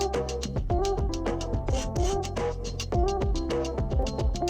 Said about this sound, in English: the guitar that I sampled through into the SK1, some stupid little ditty, you know, just some little riff